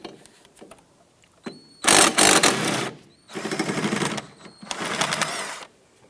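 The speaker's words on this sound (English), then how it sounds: "go ahead and loosen and remove this bolt." A 15mm socket on a ratchet loosens a bolt during engine mount bushing work on a 2005-2007 Ford Five Hundred, heard as loud bursts of rapid mechanical clicking and grinding separated by short pauses, close up with no talk.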